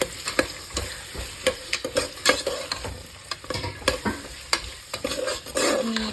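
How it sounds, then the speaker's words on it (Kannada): Potatoes and peas fry in hot oil in a pan, with a steady close sizzle broken by frequent sharp scrapes and knocks of a spoon stirring them, no voices. "ನಾನು ಚೆನ್ನಾಗಿ ರೋಸ್ಟ್ ಆಗಲಿ ಅಂತ ಆಲೂಗಡ್ಡೆ ಹಾಕ್ಕೊತೀನಿ ಮತ್ತು ಬಟಾಣಿ ಹಾಕ್ಕೊತೀನಿ. ಇದು ನೀಟಾಗಿ ಆಯಿಲಲ್ಲಿ ಫ್ರೈ ಆಗಬೇಕು."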